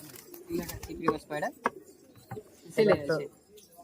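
Giribaz pigeons at a Murshidabad pigeon market coo in several close, loud bursts, with voices talking nearby between the calls.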